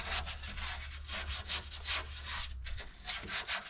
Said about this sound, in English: it comes off with a little bit of scrubbing